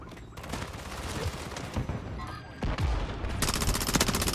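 Gunfire in the Black Ops 6 video game, with bursts of shots layered over dense game noise, growing louder and sharper toward the end, near and harsh.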